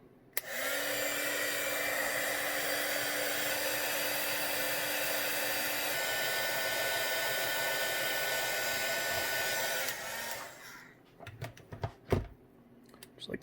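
A heat gun blows a steady, loud airy whoosh for about ten seconds while shrinking heat shrink tubing onto lithium battery cables, then cuts off, followed by a few light handling clicks and taps.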